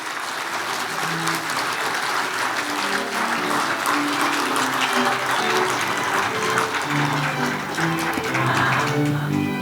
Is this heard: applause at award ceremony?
yes